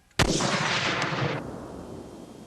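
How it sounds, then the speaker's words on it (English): A full-scale Civil War-style cannon fires one sudden, heavy boom, close by, and the blast roars and rumbles for about a second before fading into outdoor ambience. "I had to have a full-scale cannon. Ready to fire? Fire!"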